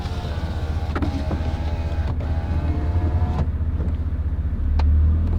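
A 1995 Toyota Land Cruiser FZJ80 idles quietly and evenly, a low steady engine hum with faint ticking and a few soft clicks, the rumble swelling slightly near the end.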